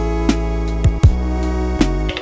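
Elektron Digitone synthesizer pattern with the drive turned up, a loud, thick, saturated bass-heavy tone with a few sharp rhythmic hits over a sustained droning layer.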